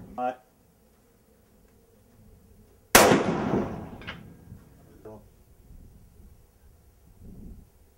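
A single sharp rifle shot cracks out mid-clip during an antelope hunt in New Mexico, followed by a decaying echo. Quiet voices murmur before and after in an open outdoor setting.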